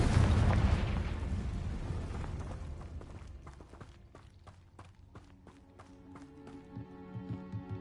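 A Confringo blasting spell in Hogwarts Legacy sets off a loud, booming explosion that rumbles and slowly fades, followed by scattered clattering debris and footsteps.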